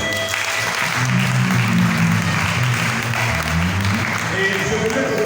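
A church congregation at a Sunday service applauding together, sustained dense clapping filling the room for several seconds with voices mixed underneath.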